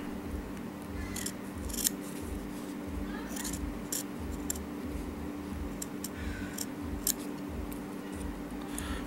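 Scissors snip close by while cutting out a fabric letter, a steady run of crisp, rhythmic cuts roughly every half second, with occasional sharper clicks over a low background hum.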